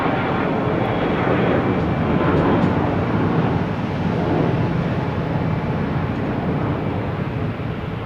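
An Alaska Airlines jet at Boston Logan Airport, a steady broad engine roar holding at constant loudness throughout, heard fairly close with no voices.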